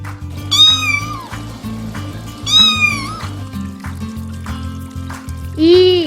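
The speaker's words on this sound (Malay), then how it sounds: "Mana pergi kucing tadi" A cat meows three times, loud and close, with clear drawn-out calls spaced a couple of seconds apart over a steady low background drone.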